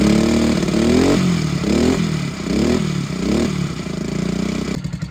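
A 2021 YCF 50A pit bike's small engine runs loud and close after carburetor mixture and idle tuning, revving up and down in repeated rising swells with a rattling edge, no voices over it.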